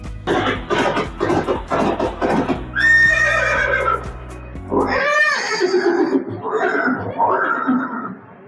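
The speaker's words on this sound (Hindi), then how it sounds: "ये दृश्य महाराणा प्रताप और सुविख्यात स्वामी भक्त घोड़े चेतक के अंतिम मिलन का है।" A horse neighs loudly in a dramatized scene of Maharana Pratap and his horse Chetak, giving several drawn-out whinnies over a hum of clip-clop hooves and background scoring.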